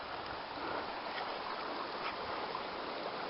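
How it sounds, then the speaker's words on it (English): A small stream runs beside a wooded pine-tree campsite in the Lost Creek Wilderness, giving a steady broadband rush of flowing water with no breaks, alone and at moderate distance. "You got water running right down there"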